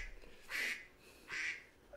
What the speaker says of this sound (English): There's the duck.